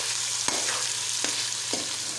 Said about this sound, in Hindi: इसको ब्राउन होने तक हम अच्छे तरीके से भून लेते हैं